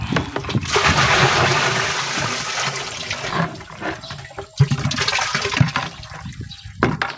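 Urea being stirred and dissolved in a bucket of water while preparing herbicide solution for weeds in a pineapple field, a continuous sloshing, splashing water sound up close with swirling gurgles and brief pauses.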